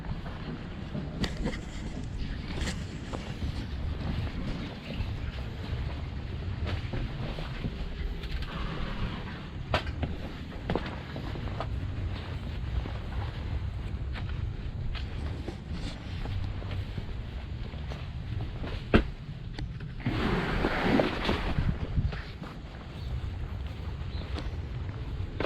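A worn 12 volt soft wash pump runs steadily at close range, a continuous low hum that is partly masked by wind rumble, with a brief hissy burst near the end.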